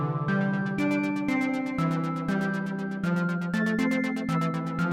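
Roland MC-101 synth tone with a tempo-synced LFO on the filter: a bright, buzzy sequenced pattern of rapid, evenly pulsing notes, stepping through changing pitches, steady and loud throughout.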